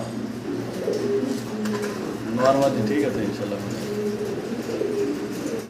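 Yellow helmet pigeons in a cage on a pigeon farm coo in short, soft, throaty bursts close by, while someone talks over them.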